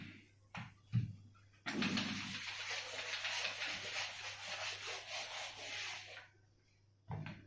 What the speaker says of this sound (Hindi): तो इसको रब कर देते हैं।